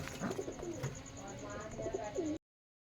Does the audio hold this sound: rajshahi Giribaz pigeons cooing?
yes